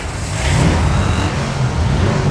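A Mad Max-style RC car with its motor revving at the start of a race, a loud continuous buzzing whine that holds steady and close for a couple of seconds.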